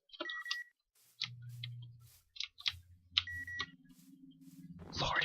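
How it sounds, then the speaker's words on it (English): Short electronic beeps from TeamSpeak push-to-talk sound repeatedly and fairly quietly against low hums, ending in a burst of noise. "What is that beeping sound?"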